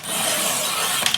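Paper being cut for a scrapbook hinge on a mini album page: a steady, close rasping scrape runs for about a second, ending in two small sharp clicks, with no talking.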